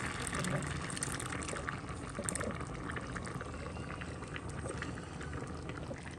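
Coconut milk poured into a boiling pot of Jaffna-style Tamil payatham paruppu dal curry gives a steady, close bubbling and pouring wash that runs unbroken throughout, with no voices over it.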